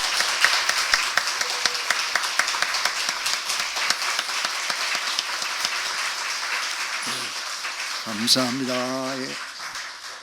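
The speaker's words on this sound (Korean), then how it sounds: "우리 한번 같이 박수로 하나님 앞에 영광 돌리겠습니다" A church congregation applauds during a Sunday worship service, sustained dense clapping filling the room, with someone speaking briefly near the end over the applause.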